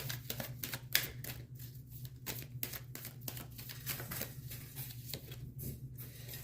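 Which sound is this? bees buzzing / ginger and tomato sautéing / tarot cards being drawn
tarot cards being drawn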